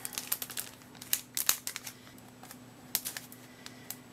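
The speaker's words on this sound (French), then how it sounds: "je vais ouvrir ça au ciseau pour faire ça proprement" Scissors snipping open the packaging of Japanese XY8 BREAK Raichu and Bryuverne Pokémon card decks: sharp, scattered clicks and plastic crinkles, close by, with quiet gaps between bursts.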